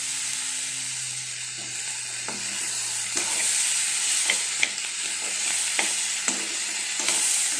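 Tomatoes sautéing in a pan hiss and sizzle steadily, with sharp clicks of a spoon scraping and stirring at irregular intervals. A faint tone fades out early on.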